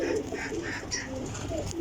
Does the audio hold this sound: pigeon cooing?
yes